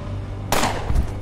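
Gunshots in the game UnderRail: a single sharp, loud shot bursts out over a low background hum, followed quickly by a second fainter crack.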